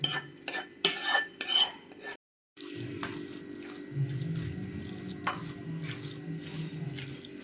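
A spoon scrapes and clinks against a bowl while mixing cooled seasoned vegetables into a thick semolina beetroot idli batter, with a short pause and then softer, steady mixing.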